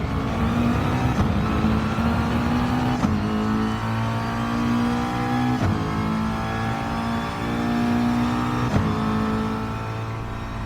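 Race cars in Gran Turismo Sport at Monza, engines droning and revving steadily through a chicane with repeated gear shifts and several cars close together, loud and continuous with no talk.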